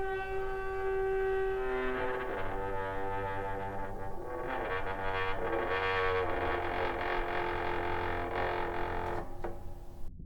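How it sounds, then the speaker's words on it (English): An old wood-burning stove's metal door opened slowly, producing a sustained eerie tonal groan with shifting pitch and harmonic overtones, loud and close, drawn out for several seconds before cutting off abruptly. "I opened it and noticed it made rather spooky noises when opened slowly"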